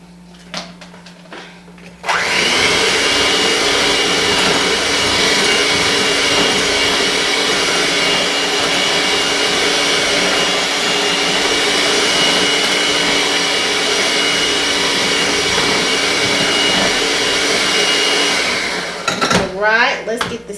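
An electric mixer whirs loudly and steadily while beating an egg into cake batter for a pineapple upside-down cake, starting abruptly after a quiet moment and cutting off near the end with some clatter.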